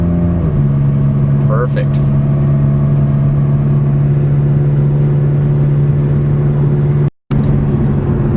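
A 2005 Chrysler Sebring runs under acceleration, heard from inside the cabin as a steady, loud engine drone whose pitch shifts early on as it changes gear, with a short spoken word and a brief dropout near the end.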